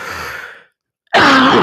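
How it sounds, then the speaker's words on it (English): A person clears their throat in a rough, loud cough-like burst, a brief rasp trailing off into silence before a second, harsher and louder bout erupts close to the mic. "Still trying to clear this cough."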